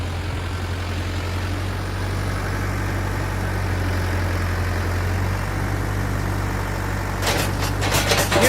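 A farm tractor fitted with a front-end loader and silage grab runs at a steady idle, its low engine drone continuous and close. Near the end comes a burst of sharper clattering noise.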